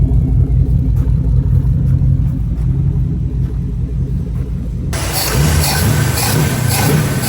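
The engine of a Volvo 240 swapped with a Mopar V8 runs steadily after starting, a loud, close, continuous low rumble that brightens partway through as the sound opens up.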